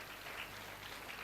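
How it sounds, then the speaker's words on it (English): Audience at a conference applauding a speaker, a faint, distant patter of clapping that holds steady and low throughout. "A big round of applause once again for Mr. Selvakumar sir, Intel Labs USA"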